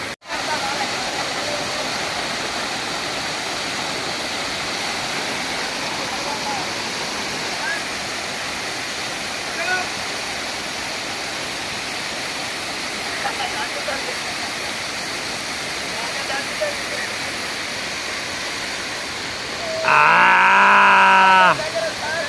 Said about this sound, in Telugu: ఇక్కడ నుంచి వాటర్ ఇలా పడేసి పడేసి కిందికి వచ్చేసి అటు నుండి ఇటు నుండి కలిసిపోయి వాటర్ ఇలా కలిసిపోయి మొత్తం ఒక ఫ్లో లాగా అయితే వెళ్తుంది